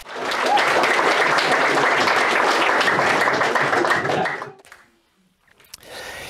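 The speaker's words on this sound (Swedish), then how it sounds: "En applåd igen för Runar." Audience applause at the Swedish Book and Media Fair 2021 for speaker Runar Sögaard: dense, loud sustained clapping for about four seconds, then a quick fade to near silence before faint room sound returns.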